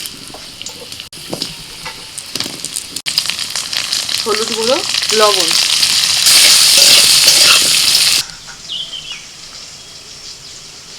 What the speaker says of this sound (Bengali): কড়াতে আবার একটু সর্ষের তেল দিয়ে ওর মধ্যে দিয়ে দিচ্ছি আলু